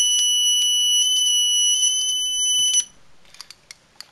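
A small homemade burglar alarm circuit sounds a loud, steady, high electronic alarm tone for nearly three seconds, then breaks into a few short, separate beeps.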